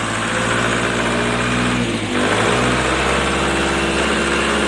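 A Nissan diesel engine, Frontier or Urvan type with a ZD30 or YD25 fuel pump fault, idles steadily at close range with a continuous rumbling throb and a brief dip midway, without any talk.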